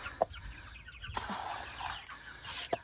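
Farm chickens in an enclosed pen cluck excitedly as they come out, a busy flurry of overlapping clucks with a couple of sharper calls, close and moderately loud.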